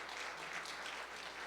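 Applause from a church congregation during a Sunday service, a steady, continuous patter of clapping from a full room throughout, with no talk over it.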